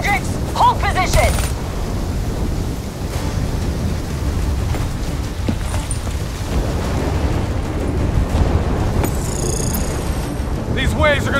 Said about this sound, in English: These waves are gonna be a problem.